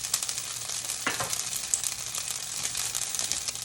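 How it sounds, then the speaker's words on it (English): Gnocchi browning in a hot pan gives a steady, close sizzle with a soft crackle throughout, and a brief stir or shuffle of the pan near the middle. "So we've got beautiful color going on here on our gnocchi. We're browning that off."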